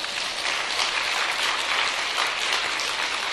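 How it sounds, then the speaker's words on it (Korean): An audience applauds at a church-related talk, a steady wash of clapping that sounds a little like rain and holds evenly for a few seconds, with no voices. "여러분 이게 박수 칠 일이 아닌데 말이죠"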